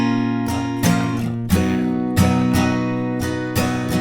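Acoustic guitar strums the chords of a song in a steady down-up rhythm, close and fairly loud, with sharp accented downstrokes and ringing sustain between them.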